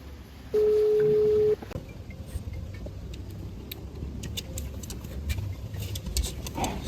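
A single steady dial-tone-like beep lasting about a second, followed by faint ticking and low background rumble.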